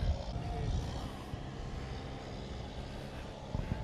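A tractor engine drones steadily nearby while spreading and compacting a pile, a low rumbling hum with some clanking, fairly faint and continuous.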